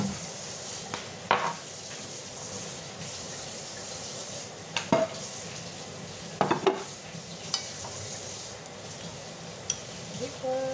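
Shrimp frying in a pan of sauced pancit noodles, a steady sizzle with occasional scraping and clinks of a utensil stirring against the pan, close by.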